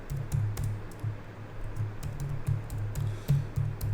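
Keys clack steadily on a computer keyboard as an email address is typed, with quick irregular taps close by and no talking.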